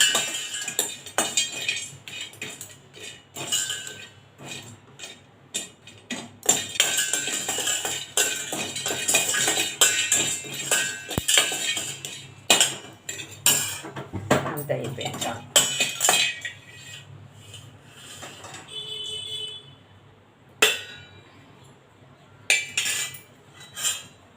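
Cinnamon and whole spices dry-roast in a pan for homemade garam masala, with irregular metallic clinks and scrapes of a spatula stirring and tossing them, loud in bursts and then quiet, while a person talks throughout.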